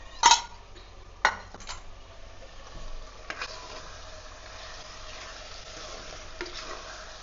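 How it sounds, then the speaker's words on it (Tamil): Spoon clinking and scraping in a cooking pan as 450 grams of mutton is mixed with masala, a few sharp clanks early on over a steady low sizzle, close by. "இந்த மாதிரி நல்லா மட்டனாக கூட நம்ம போட்டிருக்க மசாலா எல்லாமே மிக்ஸ் ஆகிற அளவுக்கு கலந்து விடணும்."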